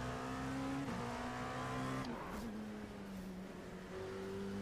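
Several race cars in the iRacing sim roar off the line together at a race start, a loud steady engine drone with rising pitch as they shift, plus a brief tire squeal midway.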